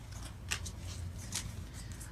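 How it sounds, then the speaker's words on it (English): Tarot cards shuffled by hand, a few quick papery riffles and brushing slaps close by, quiet over a low steady background hum. "we're gonna go ahead and shuffle that again just to be sure."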